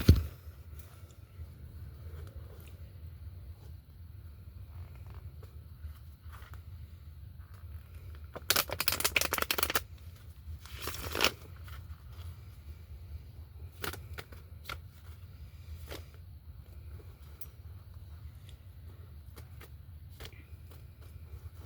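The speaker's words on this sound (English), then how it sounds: "And just pull like 3 cards from here." A deck of cards is handled and shuffled close by, with soft rustles and slides of cards through most of the stretch and two louder riffling bursts partway through, no talking.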